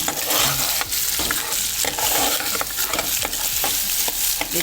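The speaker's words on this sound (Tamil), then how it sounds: "பெருங்காயம் மாதிரி அரசும் வெங்காயம் வெங்காயத்தையும் போட்டுக்கிறேன் பெருசு சின்ன ரெண்டையும் போட்டு" Onions, both large and small, fry in oil in a pan along with curry leaves and asafoetida for a Chettinad side dish, giving a loud, steady sizzle with repeated stirring scrapes throughout and no talking.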